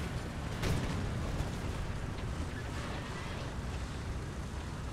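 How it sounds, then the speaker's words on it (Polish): Tank engines rumble in the War Thunder video game as a steady, loud, low roar that holds evenly throughout with no clear breaks. "słychać silniki"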